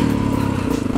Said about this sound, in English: I'm going to ride around this dirt and warm my bike up